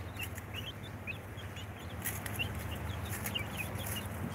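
Chickens cluck softly and steadily over a low background hum, several birds chattering close by in a backyard while eating bugs, without any talking.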